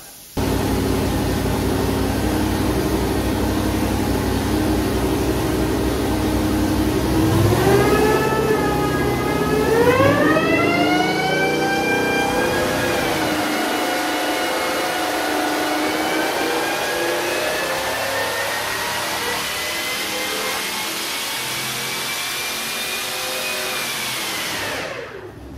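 An AMR500 blower starts up and spins to a loud, rising whine that climbs in pitch, then settles into a steady rushing drone with a high tone, close and continuous without speech.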